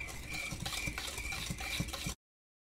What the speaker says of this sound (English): Afterwards, I mix that all together till smooth and combined.